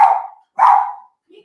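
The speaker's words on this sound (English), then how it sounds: "they start doing like large chains of barks and stuff" Two sharp, loud barks from a household dog come close together with a short gap between them, followed by a faint trailing sound; no speech.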